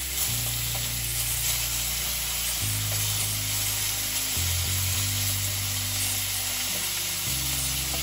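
Prawns and langoustines sizzle in very hot oil in a paella pan, a dense continuous frying crackle with occasional stirring scrapes, steady and close throughout.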